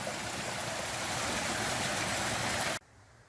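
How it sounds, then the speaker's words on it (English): A stream rushes strongly with a steady, dense hiss of flowing water that cuts off abruptly near the end. "you can hear the stream is running pretty strong right now"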